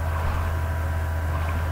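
A boat cruising over water in Minecraft, a steady low droning hum with a constant wash of water and wind, even and unbroken, no talking.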